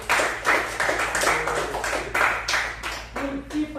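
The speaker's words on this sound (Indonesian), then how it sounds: "Tepuk tangan dulu." Classroom clapping by a group of students, several bursts of hand claps at a fairly close distance.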